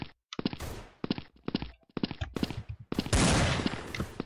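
Gunfire in the Blood Strike video game: rapid sharp bursts of shots in several volleys separated by short pauses, ending in a sustained loud automatic spray, close and punchy with no talking.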